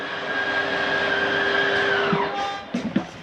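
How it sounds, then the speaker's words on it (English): The slide-out motor of a 2019 Grand Design Reflection 315RLTS RV whines loudly and steadily as the room retracts, its pitch dropping as it winds down, then stops with a few clunks. "We can slide this closed."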